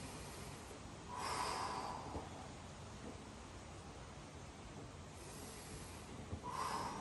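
Slow breaths in and out during a seated twisting stretch, two soft, airy exhalations a few seconds apart and close by, with quiet stillness between them.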